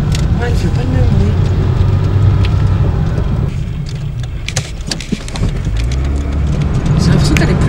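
A car drives along a road with a steady, loud low engine and tyre rumble throughout, and voices talk over it from inside.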